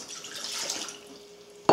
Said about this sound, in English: I am going to pour 1 cup of water in this big mixer here